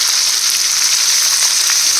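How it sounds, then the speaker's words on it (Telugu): Chopped onion, green chilli and curry leaves sizzle loudly in hot oil with seasoning seeds, a steady close crackle that holds without a break. "ఇప్పుడు మనం కట్ చేసుకున్నటువంటి onion, green chilli, curry leaves వేసేసుకుందాం."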